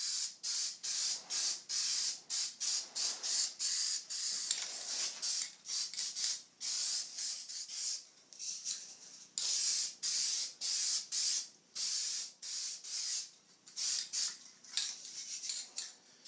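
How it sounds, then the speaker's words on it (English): Flat black spray paint hissing onto a homemade iPad tripod mount in repeated short bursts, each a close, loud spray hiss with brief gaps between, steady and rhythmic throughout. "we're going to put a nice coat of flat black paint on this"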